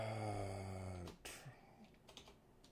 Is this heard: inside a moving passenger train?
no